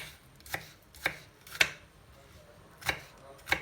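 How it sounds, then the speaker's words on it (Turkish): An onion is chopped with a knife on a cutting board, five separate crisp chops spaced irregularly, close and fairly quiet. "Şimdi soğanımızı doğruyoruz."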